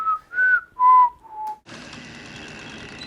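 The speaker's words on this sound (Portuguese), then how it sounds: "Ele vem assobiando" A man whistles four short melodic notes, clear and close, before a louder burst of noise cuts in.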